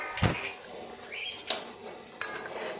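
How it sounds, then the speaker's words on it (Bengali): Lid lifted off a pot of rasmalai boiling in syrup on a gas stove: a sharp metallic clank up close, then two more brief clinks of metal against metal over a low bubbling background. "এবার ঢাকাটা খুলে দেখি"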